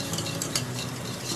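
Sugar being stirred into warm ghee and oil in a pan for an eggless, ovenless cake, a continuous close scraping and swishing with a few light utensil clinks and no talk.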